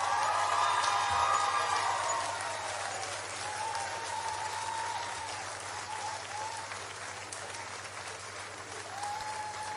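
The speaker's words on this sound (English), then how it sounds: "One more round of applause for everyone." An audience claps in a sustained round of applause at an evening live event, a dense, even patter that tapers off slightly and picks back up, with faint voices mixed in.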